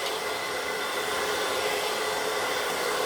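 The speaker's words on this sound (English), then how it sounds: "Using the blow dryer to just flatten that cuticle down." A blow dryer runs steadily and loud at close range, a constant whooshing roar with no pauses as it flattens the cuticle across the top of the hair.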